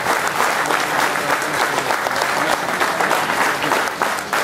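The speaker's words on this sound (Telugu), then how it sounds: "ఒక్కసారి లేచి నిలబడి వీళ్ళందరికీ క్లాప్స్ కొడదాం మనం హర్షధ్వానాలతో" An audience standing and clapping at a book release event, dense sustained applause from a large crowd filling the room, loud and steady throughout without talk.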